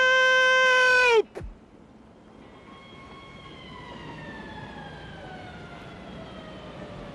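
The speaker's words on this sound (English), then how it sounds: "A police boat siren wailed in the distance." A police boat siren wails far off across open water, a thin falling-and-rising tone that lingers faintly behind background noise after a louder held tone cuts off.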